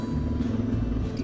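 Motorcycle cruising along a road through West Yellowstone, a steady low engine rumble with wind noise, close and continuous over a brief stretch.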